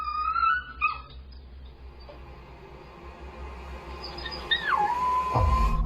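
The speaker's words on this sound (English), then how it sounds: "Then he starts howling." A puppy sitting in its cage lets out a rising, wavering howl that climbs then drops and holds a steady tone near the end, preceded by brief whining and quiet stretches.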